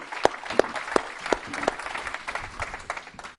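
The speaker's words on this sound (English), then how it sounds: "Round of applause for Andrew." Applause at a climate conference, opening with several sharp, loud claps close by before thinning into a softer patter from the audience, then cutting off abruptly.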